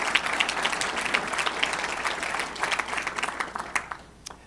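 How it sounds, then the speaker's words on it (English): An audience at a public talk applauds together, a dense, sustained clatter of many hands clapping that stays loud and even, then thins out toward the end. "So I think you should give yourselves all a round of applause for making that happen."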